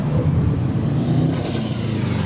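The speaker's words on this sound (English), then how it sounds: "Loud Subaru." A loud Subaru drives past leaving a Japanese car show, a deep rumbling engine with a rising rev, close by and dominant, and a faint higher whine near the end.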